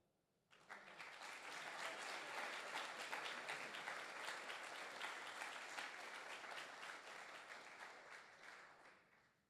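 Applause bursts out suddenly from a graduation audience for chief residents at a hospital residency ceremony, many hands clapping steadily and fairly far off, holding level before slowly thinning out.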